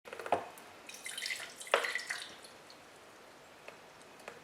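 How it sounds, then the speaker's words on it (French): Liquid is poured into a cup in a home kitchen, giving a short splash and then a trickling, dripping flow that fades into quiet, with no voices. "j'ai rempli la tasse."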